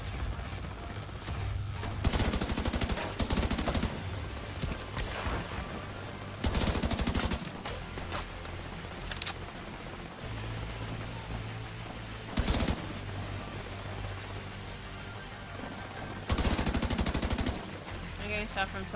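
Automatic weapon fire in The Division 2, loud repeated bursts of rapid shots separated by short gaps, with game sounds and a voice in between.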